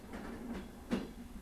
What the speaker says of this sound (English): The rails beneath the train hum quietly, a low, constant sound